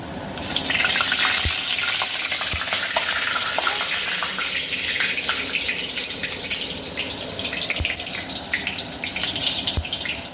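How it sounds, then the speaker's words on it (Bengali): A loud, continuous hiss of spices and bay leaf frying in hot oil over a raised gas flame, with occasional sharp taps of a utensil. "এখন আমি গ্যাসের ফ্লেমটা বাড়িয়ে দিলাম রাঁধুনিটা ভাজা ভাজা হয়ে এসছে"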